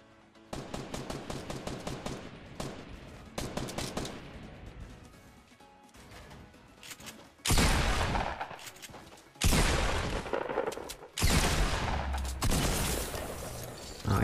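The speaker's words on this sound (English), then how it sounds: "I keep hearing sniper bullets coming from that direction" Gunfire in the PC game Fortnite, including sniper fire, comes as rapid bursts and heavier blasts, loud and close, with short gaps between volleys and no talking.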